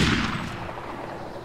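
A quick burst of gunshots from the video game DayZ, several sharp cracks fading into a short echoing tail.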